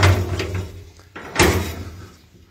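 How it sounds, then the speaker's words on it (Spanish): A pig bangs against a door in a village, a rattling thud of wood near the start and a louder, sharper slam about halfway through, close by over a low background rumble. "Si es que rompe toda la puerta."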